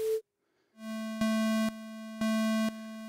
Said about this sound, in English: We've got an alternating sine wave.